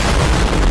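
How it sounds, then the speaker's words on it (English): A big explosion hits as a loud, dense, sustained roar of blast noise that fills the whole short moment at full force, with no talk over it. "Did you not just hear the big explosion literally like half a second ago?"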